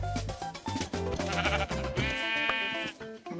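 Sheep bleat in the Minecraft video game, a series of loud, wavering bleats repeating closely one after another.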